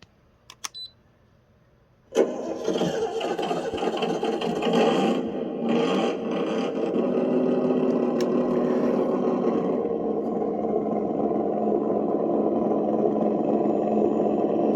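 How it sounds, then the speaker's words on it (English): An RC truck's motor engine sound effect, on a Tyco Bandit, starts abruptly after a couple of faint clicks, then runs steadily and loudly with a buzzing, rumbling drone. "put a cool motor engine sound in here"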